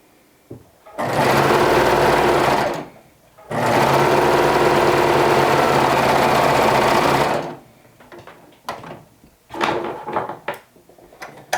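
A cover stitch sewing machine hems a bamboo-fabric garment, running loud and steady in two long bursts of about two and six seconds, followed by softer clicks and handling noises.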